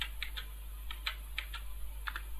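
Keys on a computer keyboard are pressed in quick, light clicks during work in Excel VBA, set against a steady background hum.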